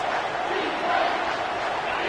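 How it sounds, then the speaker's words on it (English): A football stadium crowd roars steadily, urging its defense to make a stop on a big third down, a dense wall of cheering and shouting with no break. "The crowd elevating its energy, willing this defense to get a stop on this big 3rd down."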